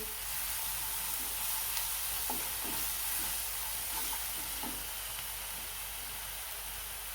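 Ginger, garlic and green chilli paste sizzles steadily in a hot pan while frying for batata vada, a continuous hiss with faint scraping stirs scattered through, no talking.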